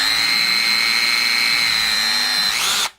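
A DeWalt cordless drill motor whines steadily and loudly at close range for nearly three seconds, with a bright sustained tone, then spins down abruptly and stops.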